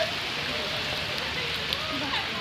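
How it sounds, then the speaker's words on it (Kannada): Heavy rain pours down steadily near Sankey Tank in Bangalore, a dense, continuous loud hiss of drops on surfaces with no pauses. "ಫುಲ್ಲು ಜೋರು ಮಳೆ"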